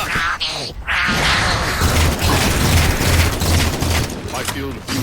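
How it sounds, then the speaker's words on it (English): A grenade blast in the Halo 4 campaign, with a boom and a crash mixed into a heavy battlefield din of rapid gunfire. Bursts of gunfire and mechanical clatter carry on throughout, with brief voices underneath. "Grenade up!"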